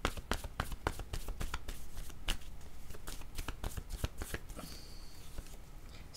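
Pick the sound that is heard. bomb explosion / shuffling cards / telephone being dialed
shuffling cards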